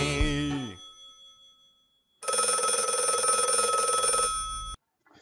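A telephone bell rings loudly and steadily for about two and a half seconds, a bright metallic trill that stands alone after a short burst of cartoonish singing and music fades out.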